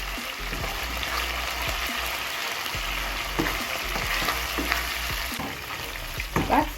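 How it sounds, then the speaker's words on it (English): Ingredients for a Ghanaian beef stew frying in a pan, giving a steady, close crackling sizzle with scattered stirring clicks and a low hum underneath. "Let's fry it for a bit."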